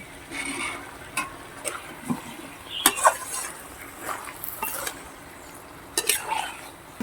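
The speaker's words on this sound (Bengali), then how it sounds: "এই মাছটা এখন দিয়ে দিচ্ছি" Fish going into a cooking pan for a prawn and Malabar spinach dish, a series of close clattering utensil knocks and scrapes over a faint sizzle, with no voices.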